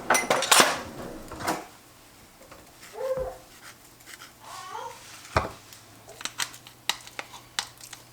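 Metal pot and lid clatter from a double boiler being handled on the stove while carrots boil, a few sharp clanks and scrapes spread out over quiet kitchen background.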